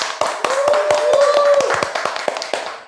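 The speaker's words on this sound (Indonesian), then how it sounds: "Aplaus dulu buat Ajis yuk" Applause from a small audience at a Daihatsu sales event, a few seconds of brisk, close hand clapping with a brief tonal note ringing over it.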